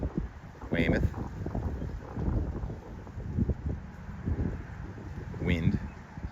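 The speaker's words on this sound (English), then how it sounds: "Wind," Wind blowing along the coast at Weymouth, a steady broadband rush buffeting the microphone throughout, with a few sharper gusts and people speaking over it.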